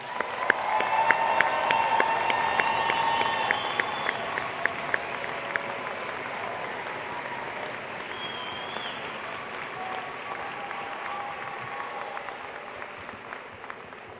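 Audience at a Missouri S&T commencement ceremony applauding graduates: dense, sustained clapping from a large crowd filling the hall, loudest at first and slowly thinning, with faint scattered cheers.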